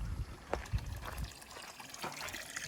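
Water from a fountain fed by natural spring water on a sloping rural field, trickling and splashing softly and unevenly at close range.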